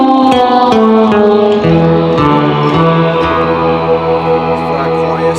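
Sustained, layered tones from an effects pedal swell in a choir-like pad, with plucked notes changing underneath, loud and close.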